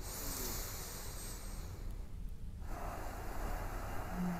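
Slow, audible breathing during a yoga pose, long airy inhales and exhales close up over a steady background hiss, with a brief quieter gap midway and no talking.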